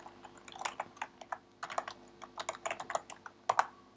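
Rapid, uneven keystrokes on a computer keyboard as a package name is typed while coding a Java plugin for Minecraft Bukkit; close, crisp clicks in short bursts with brief pauses and no voices.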